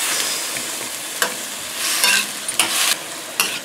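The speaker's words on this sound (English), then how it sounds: "Okay, shrimp cooks up pretty easily." Shrimp frying in a pan while being stirred, a soft steady sizzle broken by several short scraping bursts from the utensil, fairly quiet and with no voices.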